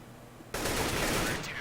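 Gunfire in a Counter-Strike: Global Offensive match, a sudden loud burst of shooting that cuts in after a quiet moment and continues as a dense, sustained crackle of shots.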